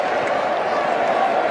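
Steady applause and crowd noise filling a cricket stadium at an Australia v New Zealand match, a broad, even roar of clapping throughout.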